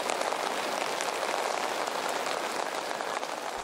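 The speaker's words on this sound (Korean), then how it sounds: "비가 오는데도 운치가 있어요." Steady rain falls over the hillside town of Chefchaouen, Morocco, as a dense, even hiss of drops on surfaces fills the whole moment without pause or voices.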